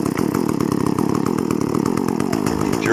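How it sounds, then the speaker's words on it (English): A chainsaw engine runs with a rapid, steady buzzing putter after pulls on the starter rope with the choke pushed in. It stays loud and close throughout. "Time to push the choke in. Give it a couple more pulls."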